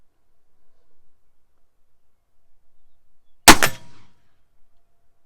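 A single sharp report from a Remington revolving carbine at a shooting range, loud and close, with a brief ringing tail against near silence.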